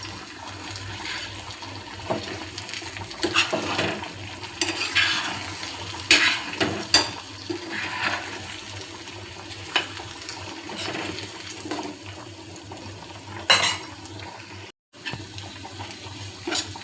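Eggs being stirred into a curry in a pan, giving irregular scraping and stirring sounds with watery, sloshing texture. The sound is moderate and steady, with no talking.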